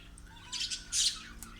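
Pet budgerigars kept indoors give a few short, bright squawks and chirps in quick bursts, moderately close, with no talking.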